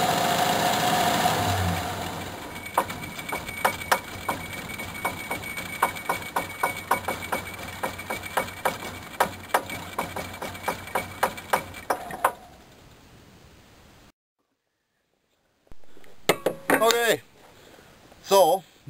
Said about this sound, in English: sputtering, wheezing sound that is known to the Chevy community and to enthusiasts all around the world as dieseling